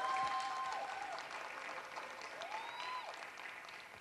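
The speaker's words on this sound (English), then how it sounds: "Please give a round of applause to Dr. Patricia Van Pelt Watkins that just walked in the building" Audience at a West Side mayoral candidates town hall applauding a candidate arriving, a sustained, fairly distant wash of many hands clapping that slowly tapers.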